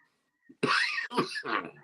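Several harsh coughs in quick succession, close and fairly loud, with a brief soft sound just before them.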